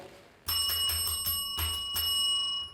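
A bright bicycle-style bell rings in several quick rapid trills in a podcast studio, close and clear, after a brief quiet start.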